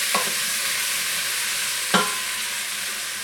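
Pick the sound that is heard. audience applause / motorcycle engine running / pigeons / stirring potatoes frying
stirring potatoes frying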